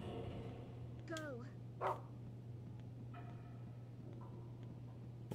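Dog barking and whimpering in the video game Rule of Rose, a few short yelps and whines over a steady low game hum, with someone talking.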